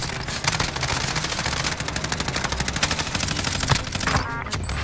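Rapid gunfire crackles almost without pause in a Call of Duty: Modern Warfare match, dense bursts of automatic shots layered over battle noise, loud and close throughout.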